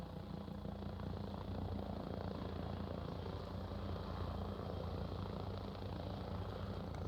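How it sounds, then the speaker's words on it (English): A video game helicopter arriving, a steady droning rotor and engine roar that holds constant throughout, moderately faint with no voices over it. "And the helicopter comes in"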